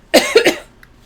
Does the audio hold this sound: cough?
yes